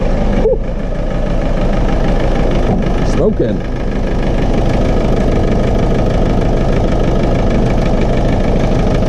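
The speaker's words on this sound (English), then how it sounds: "Exhaust pipe's blowing a bit down here." Land Rover Defender diesel engine idles roughly and loudly up close, its exhaust blowing with a steady low rumble and knocking throb, while a person speaks briefly over it.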